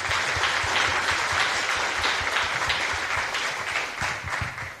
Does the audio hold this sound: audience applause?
yes